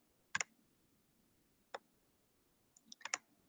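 Computer mouse clicks on a website forum link: a few sharp, close, quiet clicks in a near-silent room, one double click, a lone one, then a quick cluster at the end.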